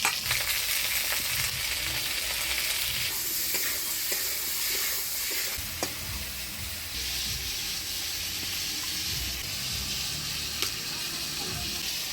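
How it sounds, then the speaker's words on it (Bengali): Potatoes and pointed gourd sizzle in tempered oil while a utensil stirs them, a dense continuous hiss with scattered clicks and scrapes, close and steady for about twelve seconds. "আলু পটল দিয়ে ফোড়নের তেলে ভালোভাবে নাড়াচাড়া করে নিলাম"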